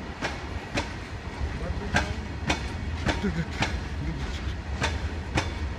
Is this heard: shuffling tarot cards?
no